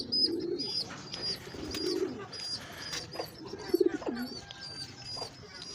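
Pigeons coo in soft, low rolling phrases, repeated several times close by, with faint chirps and rustling in the background.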